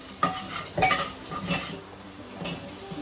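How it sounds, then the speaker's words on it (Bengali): Potato and carrot pieces frying in a pan, with a light sizzle under several distinct scraping stirs and clinks of a utensil against the pan, close and without talk. "তবে সবজিগুলো একটু ভেজে নেবো।"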